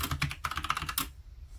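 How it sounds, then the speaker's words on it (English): Rapid keystrokes clatter on a USB keyboard plugged into an iPhone 15 Pro, a quick run of close clicks lasting about a second before stopping. "Trying out some peripherals now, and a USB keyboard works,"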